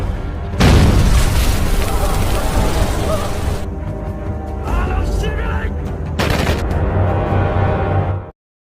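Heavy bomb blasts go off in a rice field in a Rambo film battle scene, with a loud booming burst followed by rumbling, sustained explosions and crackling debris throughout.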